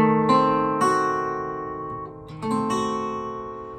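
Electric or acoustic guitar strums a diminished passing chord, a few sustained ringing strums with rich harmonics, close and alone with no talking.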